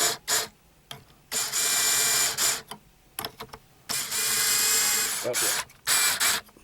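An electric screwdriver spins a turbo tune string winder on a baritone guitar with locking tuners, sounding as several close, loud whirring bursts of a second or so with brief gaps, and a short word spoken between them.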